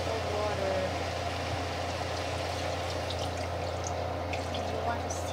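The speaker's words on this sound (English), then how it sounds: "So here I added 2 cups of water." Two cups of water poured into a cooking pot for chicken afritada, a soft continuous pouring and trickling stream over a low steady hum, with quiet talk beneath.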